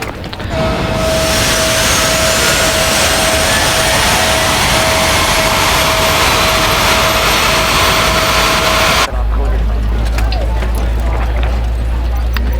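A Delta Airlines A320 jet engine runs after start, a loud, steady roar with a sustained whine and a rising high tone, then the sound abruptly shifts to a deeper rumble near the end.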